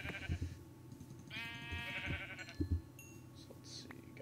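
Sheep bleat in a Minecraft game world, a drawn-out harmonic bleat standing clear over soft game ambience, with lighter clicks and thuds around it.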